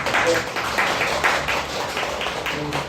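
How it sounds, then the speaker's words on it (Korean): Audience applause at a film talk event after a screening, a steady wash of many hands clapping throughout, fairly close and dense, with faint voices underneath. "박수 한번 부탁드립니다."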